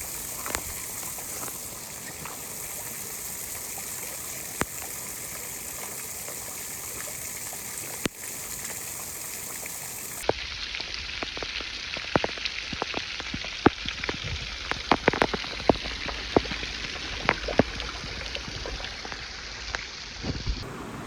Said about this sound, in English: I just couldn't resist stopping for this beautiful waterfall